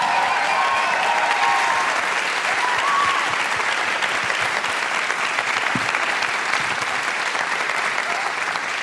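Sustained applause from a podcast's live audience, steady and full for the whole stretch, with dense clapping and no pauses.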